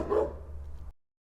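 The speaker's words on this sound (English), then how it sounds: "And preview, one clean bark." A single trimmed dog bark from a sound-effect library clip of a neighbor dog barking, one loud close bark that ends abruptly in silence.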